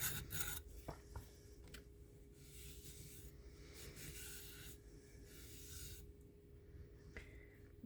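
Rough side of a sanding tool rasps against the inside of an eco-pour mold holding a hydrocast piece, a close, quiet scraping in steady strokes with a few sharper scratches.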